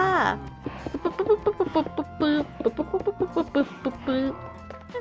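Minecraft chickens in the FTB StoneBlock 4 modpack cluck in a quick series of short, bright calls, close and fairly loud, with a steady low background hum underneath.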